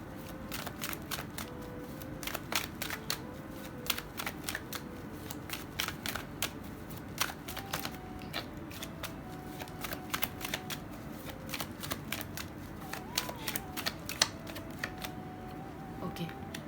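Tarot cards are shuffled and handled for a reading, giving a long run of close, crisp riffling snaps and flicks in irregular bursts, with a faint voice in the background.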